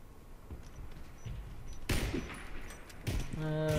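Gunfire from the video game Warface: a few sharp shots and a louder burst near the end, fairly faint overall, mixed with background game noise.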